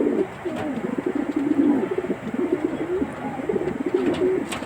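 Pigeons coo close by in a run of low, rolling, throaty phrases that repeat with brief pauses, with a few faint higher chirps in the background.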